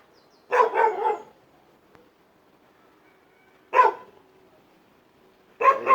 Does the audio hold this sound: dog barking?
yes